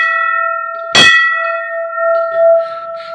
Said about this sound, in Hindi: चलिए हम भी घंटी बजा देते हैं।